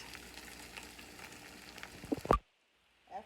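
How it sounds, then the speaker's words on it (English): Soft, steady sizzling of a tortilla frying in a pan, with a few clicks and a brief louder clatter before it drops away. "you want to let that kind of sizzle for another minute"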